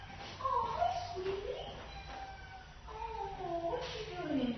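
A cat meows repeatedly in a drawn-out, sliding way, several distinct calls close by in an indoor room.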